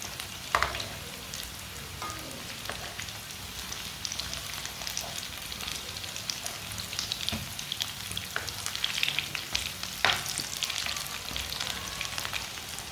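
Cucumber chapli kabab patties frying in a pan make a continuous close sizzle with occasional crackles and scrapes, steady throughout without speech.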